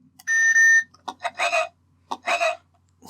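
A podcast quiz buzzer, re-recorded louder, gives one loud, steady electronic buzz of about half a second, followed by several short, louder voiced bursts.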